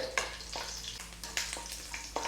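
Garlic roasting in hot oil for Mangalore-style Boothayi Pulimunchi, a close, steady sizzle broken by a few sharp crackles and stirring scrapes.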